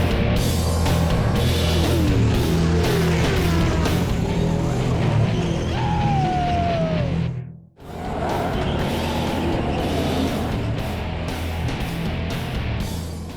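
NASCAR stock cars roar in a loud, steady, continuous engine drone with a rising whine and some tire squeal. The sound dips sharply for a moment near the middle, then resumes at full volume.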